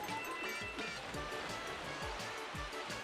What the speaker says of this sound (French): Ah, les vagues sont grosses, elles me font perdre du temps en fait.